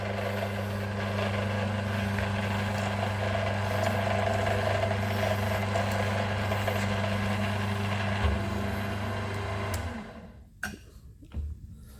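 A shop-made tapping head slipping at its clutch while tapping: a steady mechanical hum with a rapid ratcheting chatter, close and continuous, then cutting off after about ten seconds into a few scattered clicks and knocks.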